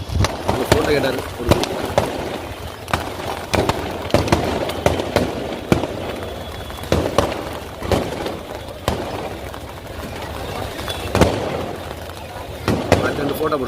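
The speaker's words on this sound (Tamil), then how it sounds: "நல்லா வெடி வரட்டும்" Firecrackers burst at the Nagore Dargah Kandoori festival in a rapid string of sharp cracks and pops that comes in irregular bursts over a crowd, with people talking nearby.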